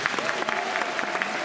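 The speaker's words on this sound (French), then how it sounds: "Applaudissements pour Perrine Destony." Audience applause at the Miss Picardie 2020 pageant, dense steady clapping with a faint voice and tones underneath.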